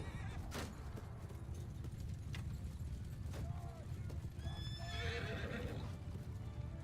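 Horses gallop with steady clip-clop hoofbeats and an occasional whinny as a horse archer rides in a Mount & Blade II: Bannerlord battle, moderately loud over a constant battle din.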